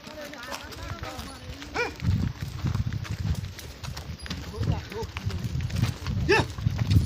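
Gir cows graze with herders outdoors in Gujarat: hooves shuffle and thud and animals move about nearby, while voices call out and talk over the herd.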